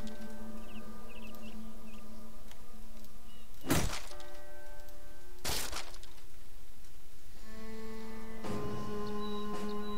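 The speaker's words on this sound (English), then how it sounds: "let's destroy that shield of his" Crunching impacts of a shield being smashed in the video game Battle Brothers, two sharp loud cracks a couple of seconds apart and a third hit later, over a steady droning game soundtrack.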